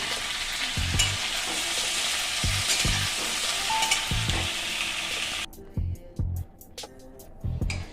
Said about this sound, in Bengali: এগুলো আমি ভালো করে ভেজে নেব